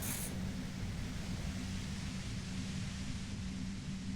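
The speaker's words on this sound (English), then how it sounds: "You hear through the white noise. It's especially bad suddenly." Dense white-noise static hisses loudly and evenly throughout a scene in the Disco Elysium video game, with no voices.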